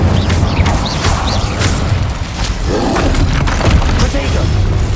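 An Incendio fire spell is cast in the PC game Hogwarts Legacy, producing loud rumbling whooshes with thudding bursts layered over continuous in-game combat noise.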